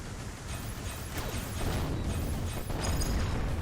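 Torpedo blasts in the underwater shooter game After Wave Downfall: a dense, roaring rumble with heavier bursts swelling through it, loud and sustained without speech.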